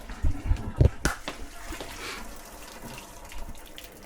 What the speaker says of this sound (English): just going to drain these potatoes with my saucepan lid